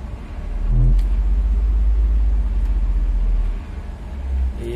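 A SOR NS 12 city bus pulls away from a stop, its diesel engine giving a loud, close, deep rumble that swells as it accelerates, eases slightly, then holds a steady drone.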